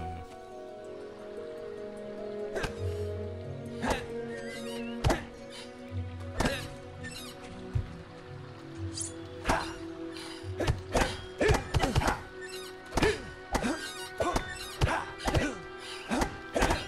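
Repeated wooden thunks and whacks as a stick strikes objects in the video game Fable, starting sparse then speeding into a rapid flurry of hits over a steady game soundtrack.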